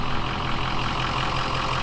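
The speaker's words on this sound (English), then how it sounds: "All right, so the truck is running again." A 6.0 Powerstroke diesel truck engine idles steadily after a CCV filter delete, running a little smoky, with a constant low, even rumble close by and no talk.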